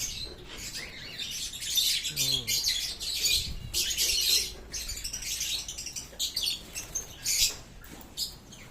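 Many small birds in an aviary chirp and tweet busily at once, a lively overlapping chatter of high calls close by, with occasional louder squawks.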